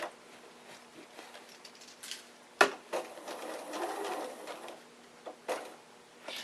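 A sewing machine quilts through a layered quilt assembly in quick, soft bursts of stitching, fairly near and quiet, with short pauses and a sharp click partway through.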